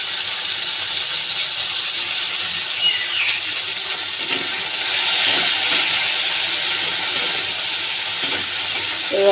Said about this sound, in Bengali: এবার আমি টমেটোটা ওর মধ্যেই দিয়ে দেব।